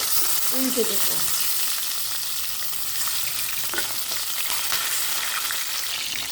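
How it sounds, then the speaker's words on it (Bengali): Fish frying in hot oil in a pan for a Bengali oily-fish curry, a dense, steady sizzling hiss that continues without a break, close and fairly loud, with a few faint clinks near the start and no speech. "তেল গরম হয়ে গেছে এবার একে একে মাছগুলো ভাজার জন্য দিয়ে দেব"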